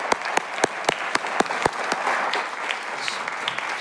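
Audience applause for symposium speakers, opening with a few sharp, loud claps that quickly grow into steady, dense clapping from a large room.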